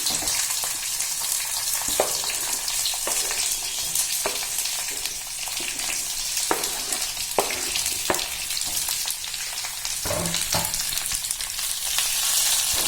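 Red chillies and chopped red bell pepper fry in a pan with a loud, constant sizzle, broken by frequent clicks and scrapes of stirring close by.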